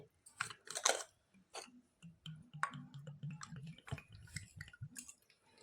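A bowl of water goes into a besan and semolina batter with a soft, quiet gurgling trickle and a few small drips and taps. Close and faint, with no voices.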